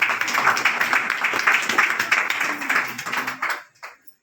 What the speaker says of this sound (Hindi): तालियां फिर से बजाएंगे